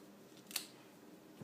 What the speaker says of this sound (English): I have this little die cut tag that says lovely, but I'm actually going to cut